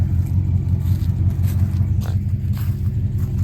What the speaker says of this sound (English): It's still sitting here idling. The old Flowmaster actually kind of fits the truck